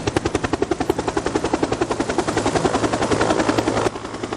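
A UH-1H rescue helicopter flying on a mountain rescue mission, its rotor thumping in a steady, fast rhythm that is loud and close throughout, with no voices.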